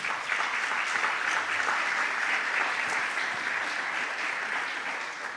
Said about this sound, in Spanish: Dale un aplauso a tu rey.